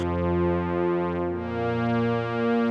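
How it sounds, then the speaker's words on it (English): Yamaha TX81Z FM synthesizer string patch with every operator waveform switched to sine, a sustained layered chord with rich steady harmonics holding at moderate loudness throughout, with no voices. "Then I changed all the waveforms to sine waves"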